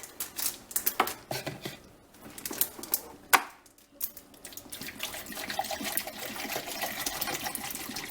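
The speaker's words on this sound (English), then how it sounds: "I'm going to pour 8 cups of water." Eight cups of water run and splash into a cooking pot with uneven, broadband rushing, mixed with clattering and handling noises nearby; no talking.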